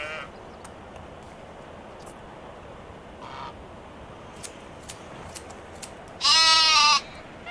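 Sheep on a farm in the Medieval Dynasty game, one loud, close, wavering bleat near the end after a stretch of quiet outdoor ambience with scattered faint clicks.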